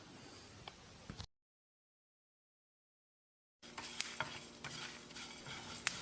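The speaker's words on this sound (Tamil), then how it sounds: "மறுபடியும் ஒரு 30 செகண்ட் வறுத்துக்கலாம்." Steady soft sizzling and stirring as spices and curry leaves roast in a pan for pepper mutton curry, interrupted by a brief silence, with occasional light scrapes of a utensil.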